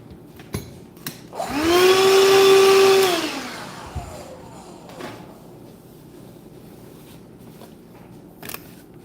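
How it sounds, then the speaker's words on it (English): A large Dremel rotary tool briefly whirs up to a high-pitched whine and winds down after about two seconds while widening part of a cheap guitar. Quiet room noise and a few small knocks follow. "I'm going to use the bigger Dremel"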